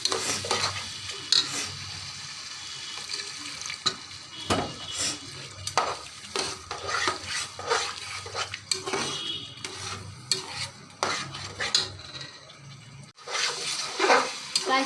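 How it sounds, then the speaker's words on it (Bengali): Aloo ghati with pieces of fish being stirred and fried in a pan, repeated scraping spoon strokes against the pan over a soft sizzle, close and fairly quiet, with no talk. "এখন একটু করে পানি দেব আর কষাতে থাকবো।"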